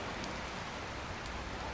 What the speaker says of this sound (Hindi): बारिश गिर रही है